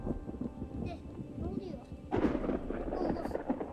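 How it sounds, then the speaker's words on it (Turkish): Thunder rolls during a lightning strike in the video game Seen, a sudden deep rumbling burst that swells midway and lingers beneath low game sounds and a voice speaking. "Şimşek çakıyor."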